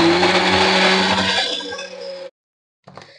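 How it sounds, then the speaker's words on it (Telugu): A mixer grinder blending cake mixture with vanilla essence into a smooth paste, loud and close, whirring steadily before winding down and stopping, then a brief clatter after a short silence. "ఈ మొత్తాన్ని మెత్తని పేస్ట్ లో ఆడుకోవాలండి"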